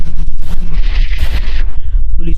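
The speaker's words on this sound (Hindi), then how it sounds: "पुलिसमैन उन पर गोलियां चला देता है" Cartoon gunfire rings out as a policeman shoots at masked attackers in an animated horror story, a loud burst of booming, explosive shots crowding together over a heavy low rumble, with a voice briefly heard.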